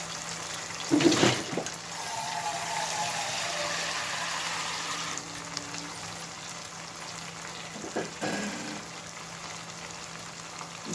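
Water runs steadily from a tap in a home kitchen while tender vegetables are rinsed, a close, continuous splashing wash with a few louder gushes and clatters near the start and again toward the end.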